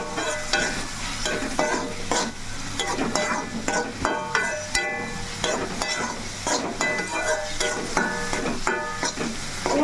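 Masala spices frying and being stirred in a pan to cook off the raw smell, part of a home-style curry of wild mushrooms; a steady, loud sizzle runs throughout with repeated scraping stir strokes and light clinks, no talking.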